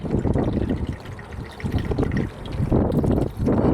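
Water drains in a steady trickle from the bottom of a truck's fuel filter, a close, continuous splashing dribble with low rumbling background throughout.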